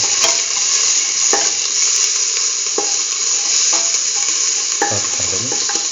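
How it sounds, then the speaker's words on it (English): Onion pieces sautéing in hot oil for a curried chickpea and beetroot stew, a loud steady sizzle up close with a few soft stirring scrapes and clinks of a utensil in the pan. "Keep on sauteing"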